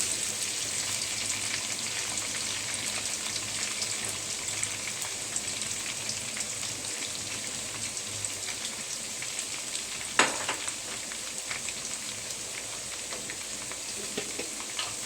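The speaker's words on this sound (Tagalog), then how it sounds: "habang hinihintay natin matosta yung ating sibuyas" Onions frying and toasting in oil, a steady close hiss of fine sizzling crackle throughout, with a brief sharper clatter near the end.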